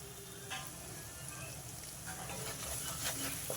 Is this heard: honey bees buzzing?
no